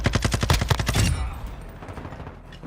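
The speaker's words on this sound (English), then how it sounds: "Oh, that's a sniper." Rapid burst of in-game gunfire from a shooter match in Call of Duty Modern Warfare II, a dozen loud cracks in quick succession fading into a low rumbling tail and quiet ambience.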